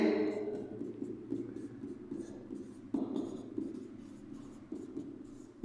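Hand writing during a maths exam-pattern lesson, heard as steady scratchy strokes close by, with brief pauses and renewed bursts of writing and no talk over it.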